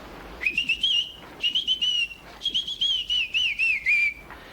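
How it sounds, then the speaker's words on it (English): Someone whistles a wavering melody in three phrases, clear and fairly close, with brief pauses between the phrases and no talking. "Don't you think it would sound better if you whistled it a little louder?"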